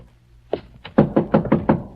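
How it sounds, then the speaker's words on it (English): Violent pounding knocks land on an outer door, a run of about seven heavy, rapid thuds that grow louder after a first blow, close and alone. "to answer the violent pounding on the outer door"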